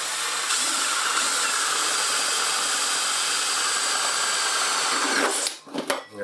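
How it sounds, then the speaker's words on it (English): A power drill whines steadily as its bit bores into a plastic hydroponics container, a loud continuous high-pitched grinding that runs for about five seconds before cutting out into a few rattling clicks. "let's just drill into this"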